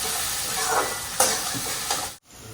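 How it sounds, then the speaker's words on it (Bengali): Onions frying in oil for beresta in a home kitchen, a steady close sizzle with a few stirring scrapes, ending abruptly. "বেরেস্তা ভাজা হলো দুবার, এই দিয়ে তিনবার। এটা হলেই বেরেস্তা ভাজা কমপ্লিট হয়ে যাবে।"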